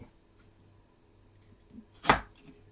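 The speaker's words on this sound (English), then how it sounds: "chip these potatoes. With the posh chipper." One sharp, loud chop as a chipper presses through a potato to cut it into chips, following a few quiet kitchen knocks.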